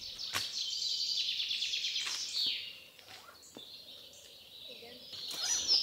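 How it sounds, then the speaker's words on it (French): Birds sing in the forest around the Mont des Avaloirs at dawn, faint high chirps and trills scattered through quiet morning air, with a few soft voices in between. "La forêt nous entoure, on entend les oiseaux."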